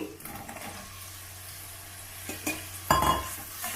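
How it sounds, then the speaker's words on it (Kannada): Mushrooms added to onions frying in oil in a pan, a soft sizzle under scattered stirring clinks and scrapes, with a sharper burst of sizzle near the end. "ಇವಾಗ ಮಶ್ರೂಮ್ ಹಾಕ್ತಾ ಇದ್ದೀನಿ"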